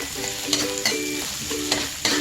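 Plenty of onions sauté in a hot frying pan, giving a steady close sizzle broken by a few sharp stirring scrapes, with no voices.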